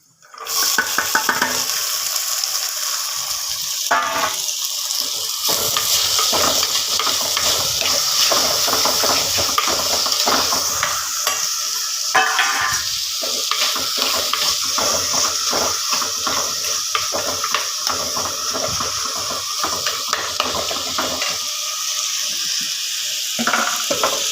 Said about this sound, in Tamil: இப்போ வந்து நம்ம கட் பண்ணி வச்சுக்கிற வெங்காயம் தக்காளியை நம்ம போட வேண்டியதான்